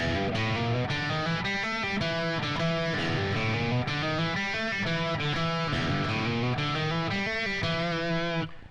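Distorted electric guitar plays the busy, continuous chorus riff, shifting chords and quick melodic movement, loud and unbroken throughout.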